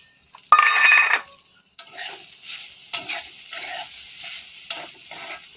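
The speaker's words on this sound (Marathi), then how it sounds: "कढईमध्ये आता ते चांगलं हलवायचं असतं" Close, scraping stirring of sabudana khichdi in a kadhai, a loud burst of clattering followed by softer, irregular scrapes and light clinks against the metal.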